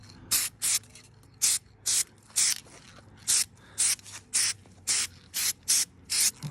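A spray gun lays an even wet coat of paint on hood hinges and brackets in a series of about a dozen short, evenly spaced hissing bursts, fairly close and alone.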